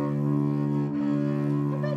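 Bowed double bass with the bow tip angled upward: a single steady sustained note with strong low harmonics, even and loud throughout, close and unaccompanied.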